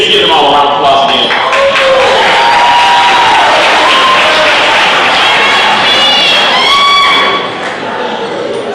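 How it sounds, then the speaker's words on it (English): A wedding reception audience claps and cheers loudly and continuously, a dense wash of applause with shouts and whoops throughout, easing slightly near the end. "Can we just give them all a round of applause again?"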